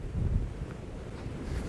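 Wind blows outside a WW2 bunker, a steady low rumbling roar buffeting the microphone, continuous and fairly loud with no voices.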